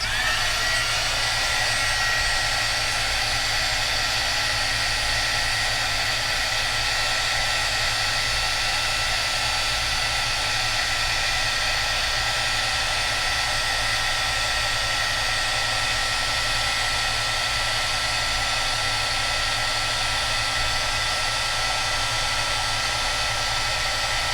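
A heat tool warms embossing powder from underneath, giving a steady, loud, continuous blowing whir that runs unbroken throughout with no talking.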